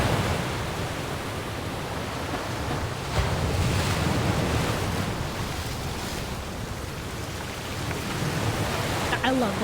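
Ocean waves in the video game Love and Deepspace, a continuous rushing wash of surf with gentle swells in loudness and a windy hiss, fairly close and steady throughout.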